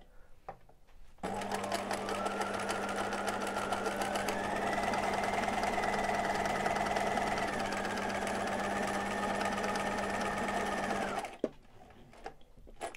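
A sewing machine stitches a seam on a fabric laptop sleeve, giving a steady, close mechanical whir that runs unbroken for about ten seconds and then stops abruptly.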